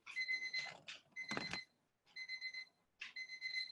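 A kitchen timer for baking scones beeps in repeated quick bursts of high electronic tones, with a clatter in between, fairly faint and close by.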